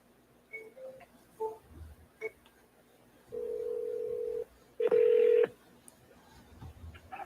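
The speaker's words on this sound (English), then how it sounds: "So let's call Claude" A phone call being placed: a series of short touch-tone dialing beeps, then a steady dial tone and a louder ringback burst, all clear with no talking, in a quiet room.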